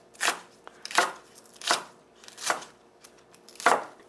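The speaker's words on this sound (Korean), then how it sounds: "파는 그래서 송송 썰어 주면 돼요." A knife chops half a stalk of green onion (daepa) on a board: five crisp, close strokes at a loose, unhurried rhythm, each a sharp thunk with quiet gaps between and no talking.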